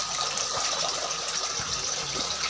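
Water pours from a pitcher into a fountain basin, making a steady, fairly loud splashing gush that runs without a break and without voices.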